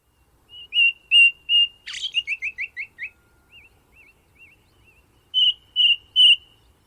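A thrush, identified only as arriving at its nest with eggs, sings a clear bird song alone: three whistled notes, then a fast trill of chirps, soft repeated whistles, and three more loud notes at the end.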